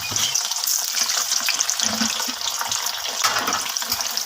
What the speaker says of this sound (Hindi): अब हम इन करेलों को हल्का सा फ्राई कर लेंगे,